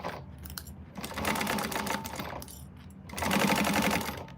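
A sewing machine bastes a quilted vinyl bag with a long stitch length, running in two steady rapid bursts with a short pause between, close and fairly loud.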